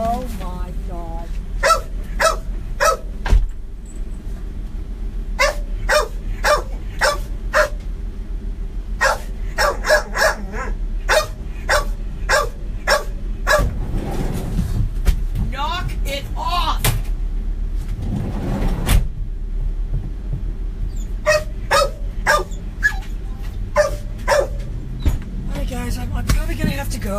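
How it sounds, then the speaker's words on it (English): A dog barking in loud, close bursts of repeated barks through most of the stretch, pausing briefly in the middle, with occasional talking mixed in. "this dog is just going to ruin the video because I'm not going to be able to talk over this thing"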